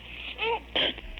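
A small, close sneeze comes as a quick intake and then a sharp, breathy burst, brief and moderately loud.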